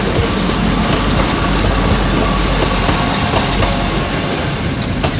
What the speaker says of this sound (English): Incoming next, Transport for Wales 1008 service to Carmarthen via Shrewsbury, Cardiff.